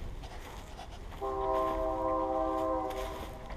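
A train horn sounds a steady multi-tone chord for about two seconds over a low rumble of rolling rail traffic, heard from some distance.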